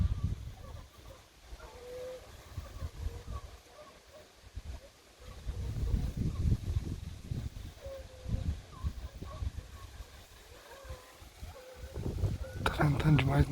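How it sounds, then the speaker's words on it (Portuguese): Strong wind blows across an open outdoor cornfield during a wild boar hunt, a rough, gusting rumble rising and falling throughout, with people talking over it. "Tá ventando demais"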